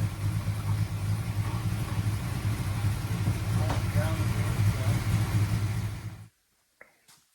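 A 440 V8 in a 1968 Dodge Coronet RT runs with a deep, steady rumble close by, then cuts off abruptly near the end, leaving near silence and a faint clatter.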